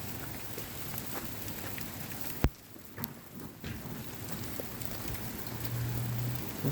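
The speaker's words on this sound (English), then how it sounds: "But no, there's a hailstorm." A heavy hailstorm comes down outdoors, a dense, steady patter of hailstones on surfaces with a few sharper individual hits and a brief lull partway through.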